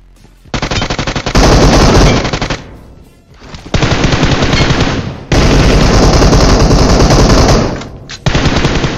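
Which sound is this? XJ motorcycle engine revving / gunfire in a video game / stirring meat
gunfire in a video game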